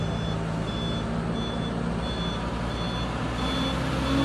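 A truck rolls backward on the steep Kedabuhan uphill slope, its reversing alarm beeping at an even rhythm over a loud, continuous engine rumble.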